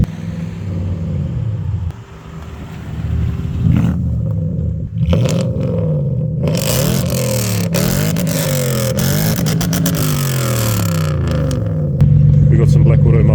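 A Toyota Soarer with a 1UZ V8, X-pipe and Black Widow mufflers idles with a loud, rowdy, steady low rumble throughout, while someone talks over it.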